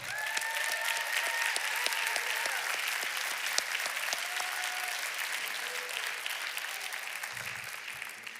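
Sustained applause from an audience at a school heavy metal Christmas event, a steady dense patter of many hands holding even for several seconds, with faint voices in the crowd underneath.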